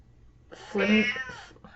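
A pet cat gives a single drawn-out meow close by, rising and then trailing off over about half a second, with faint room noise before and after.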